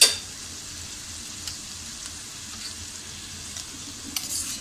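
Ginger garlic paste hits softened tomato in a pan for tawa pulao, giving a steady low sizzle with faint stirring scrapes throughout, fairly quiet and close, with a slight rise in crackle near the end.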